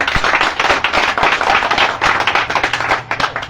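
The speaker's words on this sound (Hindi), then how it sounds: "तो इनके लिए एक जोरदार ताली।" Dense, loud applause from a crowd at an IMC company meeting, many hands clapping together in a continuous burst with no voices over it.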